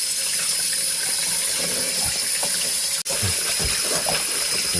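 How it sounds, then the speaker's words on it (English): Tap water runs steadily and loudly into a sink while pork bung is rinsed, a continuous splashing rush with one brief break partway through. "This is the first time I'm putting water in there to wash."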